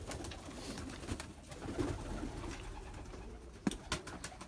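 Pigeons in a coop flooded after snow coo softly and steadily, with scattered rustles, a few sharp knocks and shuffling as birds move around the enclosure.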